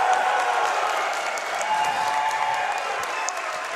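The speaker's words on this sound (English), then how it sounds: "I want you to jump out of your seats, shouting, clapping, like Mike Tyson just got down." A game-marathon audience applauds and cheers at a Mike Tyson's Punch-Out!! speedrun event, a steady wash of clapping that carries on through the whole stretch.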